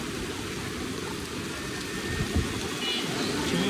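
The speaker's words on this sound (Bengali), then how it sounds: "আরও জোরে আসতেছে বৃষ্টি।" Heavy rain pours steadily onto a flooded Dhaka street, a dense, continuous hiss close by, with faint traffic and splashes mixed underneath.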